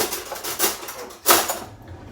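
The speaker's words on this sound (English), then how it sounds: "if you hear me in the background, it is because I'm going to make some toasted sandwiches" Kitchen clatter while toasted sandwiches are made: a few soft, scattered knocks and scrapes of dishes and cutlery, with one sharper clunk near the end, fairly quiet and close.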